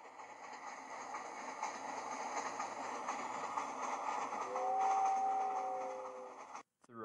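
A passing locomotive train rumbles in a steady, fairly faint rolling drone with a brief high tonal squeal toward the end before cutting off.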